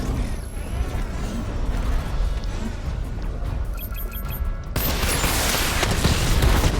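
Gunfire and mechanical weapon noise from the Batman Arkham Knight video game, a dense continuous barrage that grows louder and harsher partway through, with no talking.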